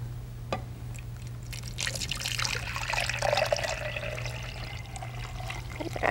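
Sugar water pours into a beaker holding a potato, a soft, fairly close trickle and splash that swells and then steadily continues.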